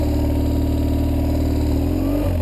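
A BMW F800GS motorcycle engine revs hard and close, a continuous loud mechanical drone with pitch climbing sharply near the end.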